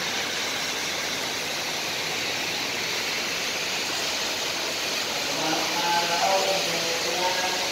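Heavy rain pours in a steady, dense hiss in Bahrain, with floodwater rushing close by, a few faint voices rising near the end.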